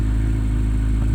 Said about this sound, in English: We'll have to give it a little bit of a rev here.